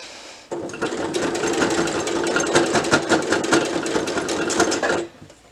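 A sewing machine stitches pleats in one steady, continuous run of about four and a half seconds, loud and close, with a fast even mechanical rhythm and no talking.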